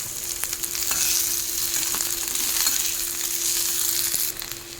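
Diced potatoes sizzle steadily in hot oil in a pan for a Bengali bitter drumstick dish, with a spatula stirring through them and occasional light scraping clicks under the constant frying hiss.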